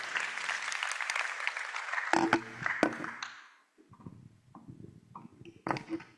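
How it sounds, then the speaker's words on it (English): Audience at a youth kickoff ceremony in Addis Ababa applauding, a loud burst of clapping that fades out before scattered claps and cheers pick up again near the end. "Another round of applause."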